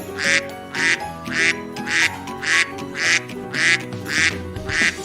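A duck quacks loudly and repeatedly in an even rhythm, about eight or nine clear calls, close up and alone with no talk over it.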